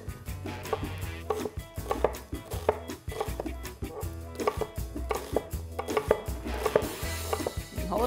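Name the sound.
knife chopping onion on a cutting board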